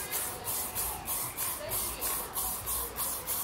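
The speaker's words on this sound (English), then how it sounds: "Stick some lacquer on the top to keep it nice and shiny." Aerosol lacquer sprayed over enamel paint outdoors in a garden, a series of about eight short hissing bursts in an even rhythm, close and fairly loud.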